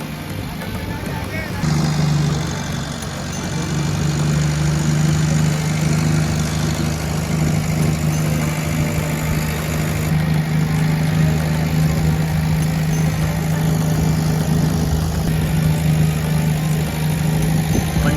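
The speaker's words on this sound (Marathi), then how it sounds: "आपली बोट निघाली" A boat engine running steadily as the boat pulls away from the ghats at Varanasi, a loud continuous low drone throughout, with people talking over it.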